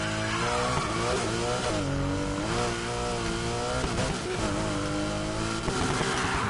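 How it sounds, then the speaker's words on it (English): Engine of a Mitsubishi car in a driving video game, a steady loud revving drone that rises and falls in pitch as the car accelerates and shifts, continuous throughout with no talk. "So anyway, driving this car."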